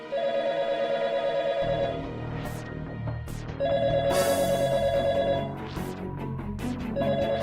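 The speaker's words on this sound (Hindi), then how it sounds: "फोन" A telephone rings in repeated electronic trilling bursts, three rings separated by pauses, over a low background hum in a dramatic indoor scene.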